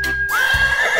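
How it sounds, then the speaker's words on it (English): A horse neighs once, a loud, close whinny that rises and then wavers down over about a second, heard alone without talk. "Once there was a horse."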